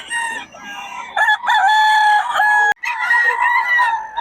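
Rooster on a farm crowing loudly and close, one long drawn-out crow with clucking before it, then a second crow after a brief break.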